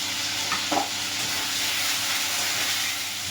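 Steady, dense sizzling of potatoes frying in hot oil, with a brief scrape of stirring near the start.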